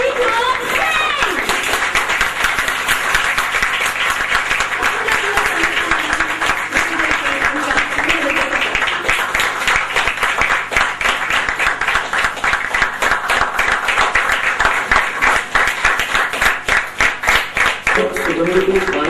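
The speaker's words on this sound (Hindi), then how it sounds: "अब मैं चाहूंगी कि आप सभी जोरदार तालियों से स्वागत कीजिए" Sustained applause from a seminar audience welcoming a speaker, dense steady clapping from a large crowd that fills the whole stretch, loud and close, with a voice briefly heard over it.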